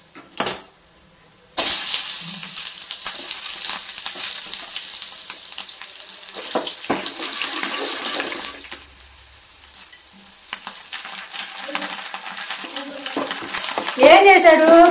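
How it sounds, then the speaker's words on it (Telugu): Onions fry in a pan with a steady, loud, close sizzle that starts abruptly after a short quiet opening, with occasional stirring and clinking and a softer patch near the end. "ఉల్లిపాయలు పెడుతున్నా."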